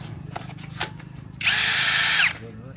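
A 20-volt battery cordless power drill spins up briefly: after a few light taps and handling noises, a loud, steady whirring burst lasts under a second, then stops and winds down.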